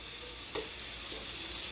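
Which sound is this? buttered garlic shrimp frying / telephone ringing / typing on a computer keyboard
buttered garlic shrimp frying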